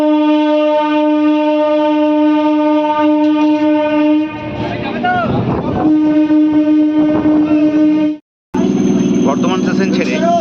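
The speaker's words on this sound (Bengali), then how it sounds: "বর্ধমান স্টেশন থেকে ছেড়ে আমাদের ট্রেন এখন এসে পৌঁছালো নিগন স্টেশন।" A passenger train pulls into Nigan station after leaving Barddhaman, a loud sustained horn-like tone ringing over rolling rumble and clatter, cutting out briefly before resuming.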